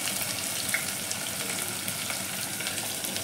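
Sliced onions sizzle in overheated oil in a home kitchen pan along with cumin, green chilli and ginger, a steady close crackling hiss that goes on without pause.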